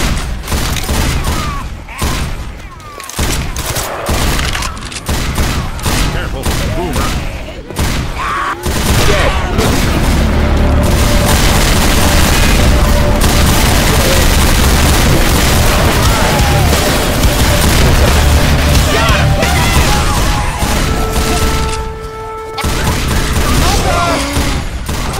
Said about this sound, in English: Grenade launcher here.